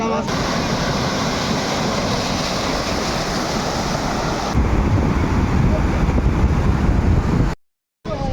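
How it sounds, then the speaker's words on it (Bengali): Rough sea waves crash onto the beach at Kuakata at night in strong wind. A loud, continuous surf roar mixes with wind buffeting the microphone, then cuts out briefly near the end. "রাতের ভিউ দেখার জন্য সাগরের উত্তাল ঢেউ সামনে"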